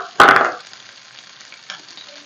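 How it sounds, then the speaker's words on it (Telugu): Rice tossed into a hot oiled pan with curry leaves and a pinch of turmeric, a brief loud sizzling clatter as it lands and is stirred, then fading to a soft crackle with a faint scrape. "మనం ముందుగా పక్కన పెట్టుకున్న రైస్ని వేసేసుకోవాలి"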